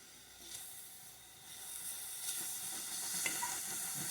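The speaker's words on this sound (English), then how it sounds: "See, the onions are still, they're sauteing without oil." Onions sauté in a dry pan with no oil, giving a soft, close sizzle with scattered crackles and stirring scrapes that grows a little louder toward the end.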